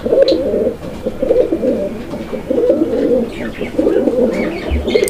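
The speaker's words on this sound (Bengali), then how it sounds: "তো ডাকটা দেখছেন কত সুন্দর ডাক" Pigeons cooing steadily at a pigeon market stall, a continuous layered murmur of low throaty coos from many birds, with a few faint higher chirps above.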